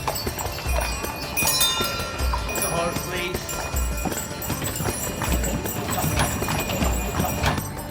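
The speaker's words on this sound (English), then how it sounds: "You can hear the horses coming." Horses' hooves clip-clop in a steady rhythm on the streets of Mdina, Malta, with small metallic tinkles mixed in, heard under people talking nearby.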